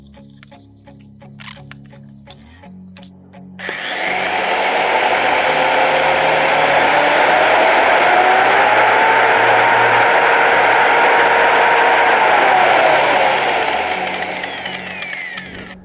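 A Procraft PMM construction mixer with a 1400 W motor and metal gearbox starts up after a few seconds of faint clicking, then runs as a steady, loud, close whirring drone that eases slightly near the end, with no talk.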